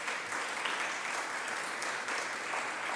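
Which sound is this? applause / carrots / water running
applause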